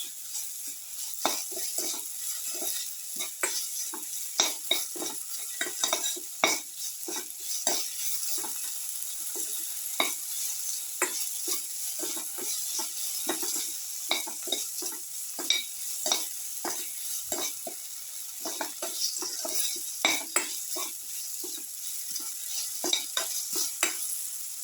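A beetroot and potato mixture being stirred with salt in a pan, over a constant sizzle with frequent scraping, clicking strokes of the spoon against the pan.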